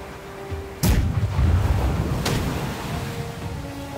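Ship cannons firing in the naval combat game Blackwake, two heavy booming blasts about a second and a half apart, loud and near, with rolling rumble and sea-like wash trailing after each, no voices.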